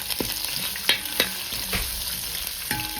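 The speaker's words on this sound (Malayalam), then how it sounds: "കുറച്ച് ഇഞ്ചി, കുറച്ച് മുളക് ഇളക്കി കൊടുക്കാം കേട്ടോ." Ginger and chili frying in a pan, a steady sizzle with a few sharp scrapes and clinks of a spoon stirring, close and alone with no talk.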